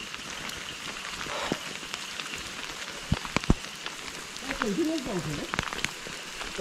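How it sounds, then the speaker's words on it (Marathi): Rain falling steadily in dense forest on the old Jotiba trek path near Kolhapur, a soft continuous patter with a few sharp drips and a brief faint voice in the background. "आज पाऊस पण भरपूर आहे,"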